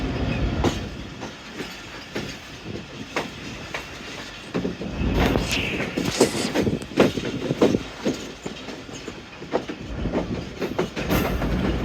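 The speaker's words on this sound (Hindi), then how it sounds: "लाला मूसा जंक्शन पे अप्रोच बना रही है 48 डाउन रहमान बाबा एक्सप्रेस" The 48 Down Rehman Baba Express rolls toward Lala Musa Junction, its carriages clattering with rhythmic clickety-clack over rail joints, occasional wheel squeals and rattles, heard from on board at moderate volume throughout.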